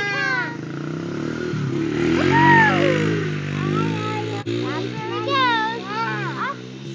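A Honda XR70 dirt bike engine drones steadily during a wheelie, rising and falling in pitch as it revs, while children and an adult talk and shout loudly over it nearby.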